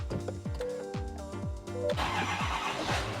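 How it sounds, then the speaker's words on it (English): A Chevy Silverado cranks with several rhythmic starter turns, then the engine catches and settles into a loud, steady idle close by, with no talking. "car starts right up"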